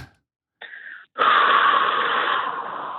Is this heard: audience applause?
no